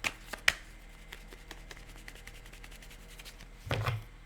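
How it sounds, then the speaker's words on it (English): Tarot cards are riffled and shuffled by hand, a rapid crisp flutter of snapping card edges with a few sharper taps, close and fairly quiet, ending in a louder burst of handling. "I know, I gotta wait for the right shuffle."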